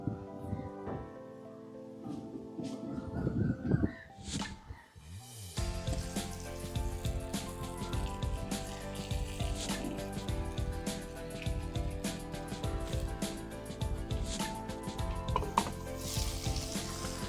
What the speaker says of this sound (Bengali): এবার পাতুরিগুলো ভাজবো। কড়াইতে তেল দিয়ে দিচ্ছি।